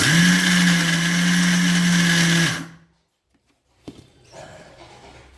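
A kitchen mixer grinder whirs loudly and steadily while grinding horse gram and coconut for laddu, then winds down and stops, followed by quiet handling clatter.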